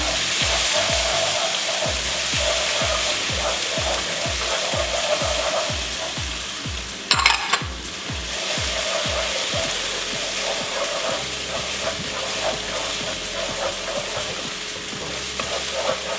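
Kreung, a lemongrass aromatic paste, sizzles steadily in hot oil for a Cambodian prahok ktiss dipping sauce, with a rhythmic stirring scrape through the first half and a brief clatter midway.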